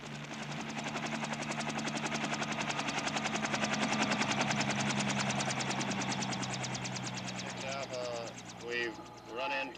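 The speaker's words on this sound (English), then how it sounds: "helicopter units make a surprise descent on suspect villages" Military helicopters descending on villages during the Vietnam War beat their rotors steadily throughout with a heavy engine drone, loud and sustained, while brief whooping tones and chatter rise near the end.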